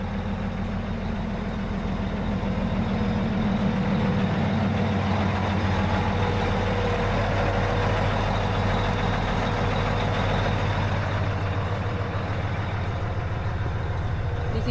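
A truck idles with a heavy, steady low engine rumble at close range while its air suspension is lowered, the sound continuous and even for the whole stretch.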